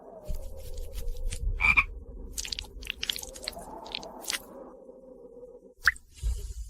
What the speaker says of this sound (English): This is a premium Changbai mountain forest frog.